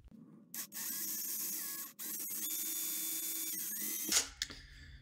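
A power tool whirs loudly in sustained bursts with brief pauses, cutting joint slots into a wooden swimbait, then stops with a clatter.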